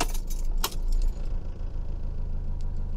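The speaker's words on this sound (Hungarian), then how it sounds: "ki tudom venni a kulcsot" Car keys jangle sharply for a moment near the start as the key is removed from the ignition of a Fiat Ducato 3.0 JTD 160 camper van, then settle as a low engine hum continues steadily underneath.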